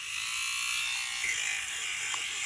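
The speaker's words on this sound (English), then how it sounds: "You just go around and shave those bits that are sticking out." An electric fabric shaver buzzes steadily at close range as it trims raised bits and little knots from fabric, a constant high whirring hum with no talk.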